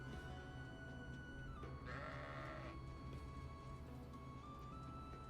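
A single wavering video game sheep bleat rises over a steady game soundtrack of sustained music tones.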